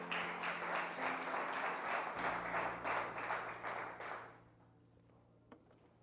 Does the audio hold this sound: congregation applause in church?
yes